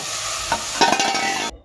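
Vegetables for a potato dish being tempered in hot oil, with a loud, close sizzle and scraping stir strokes through most of the short stretch before it cuts off abruptly.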